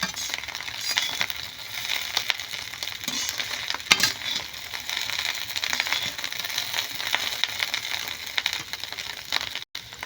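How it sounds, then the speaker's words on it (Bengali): Egg chowmein fries in a pan with a continuous crackling sizzle and the scrape of stirring, close and steady throughout, with a short dropout near the end. "এবার আমি এটাকে আরেকটু ভেজে নামিয়ে নেবো"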